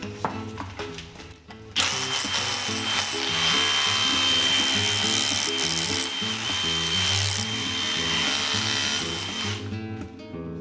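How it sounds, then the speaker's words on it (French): A DeWalt rotary hammer set to chisel mode, without rotation, hammers with a loud, rapid, pulsing mechanical clatter that starts after a brief lower hum and runs close and steady for about eight seconds. "je viens de monter un burin sur le DeWalt et on pense bien à changer, à ne pas se mettre en rotation. On vient juste sur le mode burinage"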